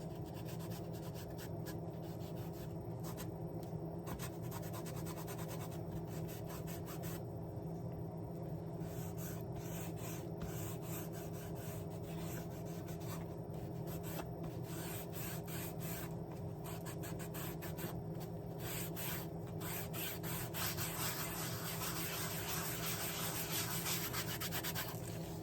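A hand rubbing finish into a handmade wooden tray, a soft continuous scrubbing and swishing that stays close and quiet throughout with no talk.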